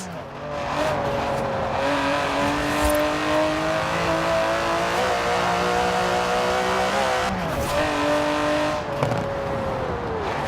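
Aston Martin DB11 in Forza Horizon 4, its engine revving and climbing through the gears in a steady, loud roar, with brief dips at the gear changes and no voices.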